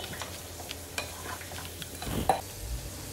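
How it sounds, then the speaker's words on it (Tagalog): Green beans stirred in hot oil for pancit bihon with canton, a soft sizzle under faint scraping and clinks of a spatula in the pan, quiet and close with no talk. "Halu-haluin lang natin."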